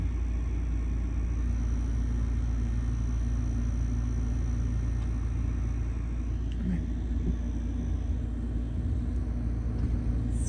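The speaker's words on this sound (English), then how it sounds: "call it a windstorm." Steady, loud low rumble of a desert windstorm with blowing dust battering a tent, a continuous roaring wash with no breaks across the whole stretch.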